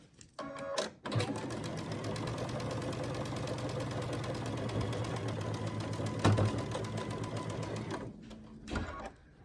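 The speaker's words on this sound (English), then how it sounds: "we'll just line these up and sew down this side" A sewing machine runs steadily, stitching a quilt block seam for a November block of the month, a continuous close mechanical whir lasting about seven seconds with a brief start and stop at each end.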